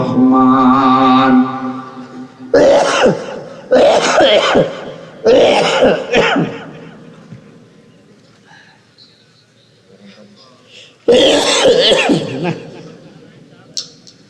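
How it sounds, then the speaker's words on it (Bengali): During an Islamic sermon, a preacher coughs repeatedly in several loud, close bursts, with quieter throat sounds between them and a further cough later on. "কাশিটা তো বন্ধই হচ্ছে না"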